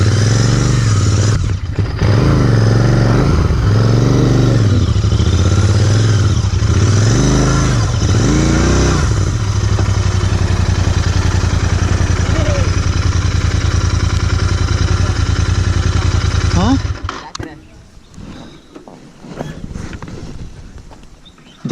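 A Royal Enfield Interceptor 650 twin engine runs loud and close, its throbbing exhaust rising and falling with a few revs before the sound drops away and fades quieter near the end.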